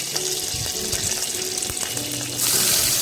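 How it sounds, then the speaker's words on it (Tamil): Mustard seeds and curry leaves sizzle and crackle in hot oil, a steady close frying hiss that swells louder and brighter near the end. "எண்ணெய் நல்லா சூடானோடனே கடுகு சேர்த்துக்கோங்க. இப்போ கொஞ்சம் கருவேப்பிலை சேர்க்குறேன்."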